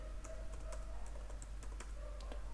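Typing a Laravel command on a computer keyboard, a quick run of close, light key clicks with irregular rhythm and no talk.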